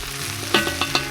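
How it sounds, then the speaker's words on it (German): Vegetables sizzle and fry in olive oil in a pan over a campfire, a steady hiss with a few sharp stirring scrapes near the end. "Rühre das noch einmal um und lasse es noch 2 Minuten anbraten."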